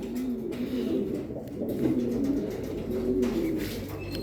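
Racing pigeons held as breeders, Jansen line, cooing in soft low repeated phrases close by, several overlapping coos rising and falling with no talk.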